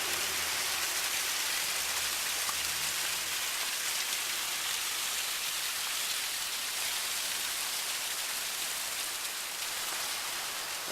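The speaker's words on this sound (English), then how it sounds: "installed a big waterfall with all these boulders" Water tumbling down a large landscaped waterfall built from boulders: a steady, loud, broadband rushing wash that continues evenly throughout, with no voices.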